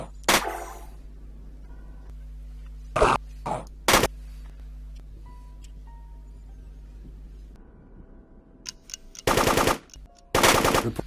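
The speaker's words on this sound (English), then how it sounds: "Incoming fire." Gunfire in the game UFO: Aftermath: several sharp loud shots and short automatic bursts scattered over a low steady hum, with longer rattling machine-gun volleys near the end.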